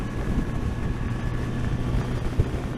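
A 2020 Kawasaki Z900RS in fifth gear drones with a low, rumbling engine note under heavy wind rush, loud and continuous as it pulls hard.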